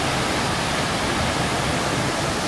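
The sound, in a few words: water flowing out of a dam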